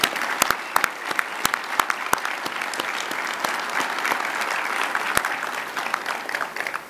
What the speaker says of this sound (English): give a round of applause first to the staff